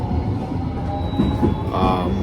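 A local commuter train in Japan runs with a steady low rumble and rolling wheel noise throughout, heard from inside the car, with faint tonal whines from the motors or wheels rising briefly near the end.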